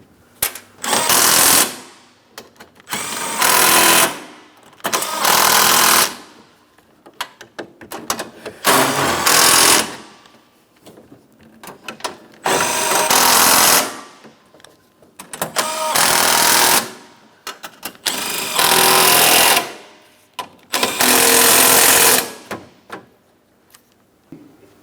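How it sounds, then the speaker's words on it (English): A power tool drives 10mm bolts into the bumper cover of a 2008-2016 Chrysler Town & Country minivan, running in seven or eight loud, separate bursts of a couple of seconds each with short quiet gaps between them, and no voices. "we want to make sure we tighten each one of these 10mm bolts first"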